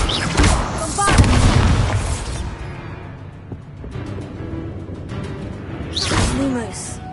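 A Bombarda explosion spell in a Harry Potter video game: a loud, deep boom at the start with rumbling debris, then quieter game sounds and a second whooshing burst near the end.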